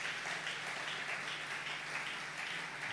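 A church congregation applauding during an Easter Sunday service, a steady, even wash of distant clapping sustained throughout with no voices over it.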